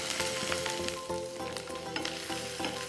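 Lobster frying in butter with garlic, thyme and tarragon in a pan, a steady close sizzle with crackling spatters and the light scrape of stirring, no voices.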